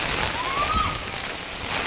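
Steady rain falls outdoors in the monsoon season, a continuous even hiss of drops close by with no talk, broken only by a faint high tone near the middle.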